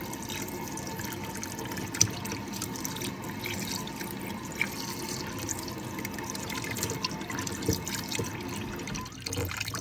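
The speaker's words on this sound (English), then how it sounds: "I went ahead and run some more water in that. And rotate it around a little bit." Running water rinsing floured oysters in a bowl, a steady splashing faucet stream with small drips and swirling, continuous and close throughout, with no talk.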